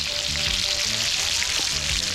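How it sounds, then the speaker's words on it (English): Lobster frying in a hot pan over an outdoor fire in Jamaica, a steady close crackling sizzle with no pauses and occasional faint background tones. "lobster them a get fry up today"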